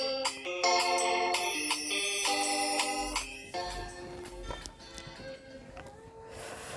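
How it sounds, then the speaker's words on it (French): A telephone ringtone plays loudly and repeatedly as a bright, tinkling melody, fading into rustling background noise with faint sounds toward the end. "Ouais, c'est le téléphone."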